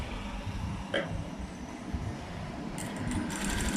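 A sewing machine stitches a paati-style blouse with a low, continuous whirring hum close by, steady throughout with a few faint clicks near the end.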